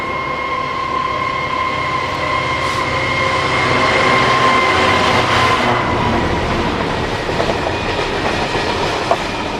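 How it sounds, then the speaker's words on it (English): A heavy Class 66 diesel freight locomotive engine drones steadily with a rising throb as it applies power at a crossing, joined by faint rail clatter and a brief squeal near the end. "66097 applies power at Waterman's Crossing to a Hinksey to Bescot train"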